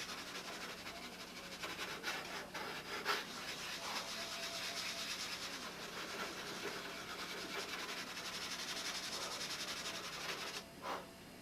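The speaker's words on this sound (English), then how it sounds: "Now if you just sand right into that area where I had the block, you're going to wind up with a really nice radius there." Steady rubbing of sandpaper on a model airplane, worked into the radius near the cowling, a continuous close, soft scratching that runs without break and eases off near the end.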